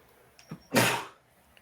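A single sharp sneeze bursts out after a couple of faint breathy sounds, fairly close and moderately loud, with no talking.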